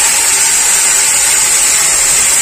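Spice paste for banana kofta curry hitting a hot pan, a loud, steady bright sizzle and hiss that holds evenly without pause from start to finish.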